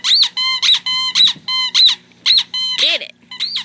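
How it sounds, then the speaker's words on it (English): A squeaky toy football squeaks in a quick, regular series of about eight loud, high, close squeezes, roughly two per second, with a short break near the end. "Squeak. Squeak, squeak. Squeak, squeak."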